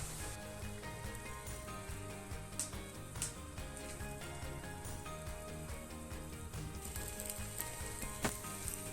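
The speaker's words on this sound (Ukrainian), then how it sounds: "І ось тепер ось так розподілили всю масу і відправляємо її смажитись." A meat loaf mixture sizzles and crackles steadily in a hot pan, with a few sharper pops standing out over the constant frying hiss.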